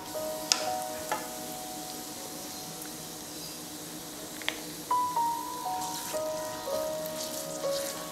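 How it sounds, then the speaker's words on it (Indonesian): Instant opor spice paste stir-fried in a pan over low heat, a steady soft sizzle with a few sharp spoon scrapes and clinks against the metal, and faint higher tones drifting through. "kita bisa masukkan bumbu instannya dan kita juga akan aduk dan tumis sebentar"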